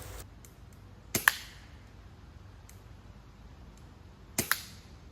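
A Swiss Arms PT92 airsoft pistol is fired at a target 20 feet away: two separate sharp snaps, each quickly followed by a second crack, with quiet room tone between the shots.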